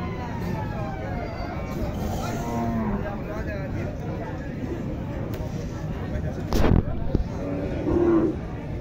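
A Sahiwal cow and her young calf moo at a busy cattle market, with repeated lowing calls rising over crowd chatter and people talking nearby, plus a brief sharp burst of noise midway.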